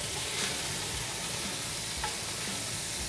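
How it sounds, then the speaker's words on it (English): Half a pound of bacon cut into thin strips frying in olive oil, a continuous close sizzle and crackle with occasional stirring, no voices. "Put a little bit of olive oil in there to brown the bacon off in."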